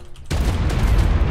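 Sudden burst of rapid gunfire in a video game, a dense loud barrage that cuts in abruptly after a quiet moment and keeps rattling without pause.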